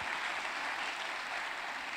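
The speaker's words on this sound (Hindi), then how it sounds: "एक जोरदार ताली नाहिद के लिए।" Dense applause from an audience at a business testimony event, a steady, even wash of clapping hands with no breaks throughout, heard at moderate distance and fairly faint.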